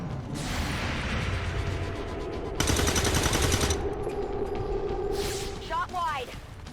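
Gunfire in XCOM 2 sounds as a sustained rapid burst of automatic fire and then a louder, denser volley, followed by whooshing effects, all under game noise with a voice speaking.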